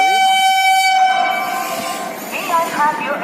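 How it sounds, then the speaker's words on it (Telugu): Train 12712, the Chennai Central–Vijayawada Pinakini Superfast Express running with ICF coaches, sounds a loud, sustained horn blast up close, which fades into the steady rumble of the moving train. "train number 12712 doctor MGR Chennai central Vijayawada Pinakini super fast express ఈరోజు చివరి ఐసీఎఫ్ కోచెస్తో"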